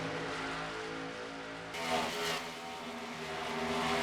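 Race cars in a video game roar around Darlington in the Southern 500, several cars bunched together, a steady loud engine drone that swells as the pack passes close.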